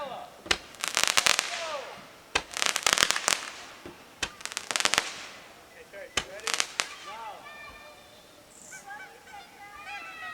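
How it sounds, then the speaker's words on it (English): Sharp crackling bursts of firecrackers go off in several clusters, loud and close, with honking birds calling between the blasts. "A little bit of firework."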